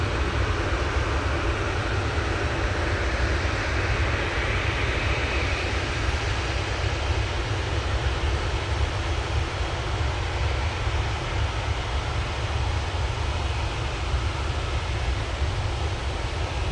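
Virgin airliner landing at Manchester Airport, a loud, continuous roar of jet engines and rushing air held steadily throughout, heard from an outdoor spotting position with no talk.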